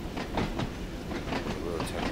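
Isle of Wight train running between Shanklin and Ryde Pier Head in the Train Sim World 2 game, a steady rolling rumble with faint rhythmic clicks of wheels over rail joints, continuous and fairly close.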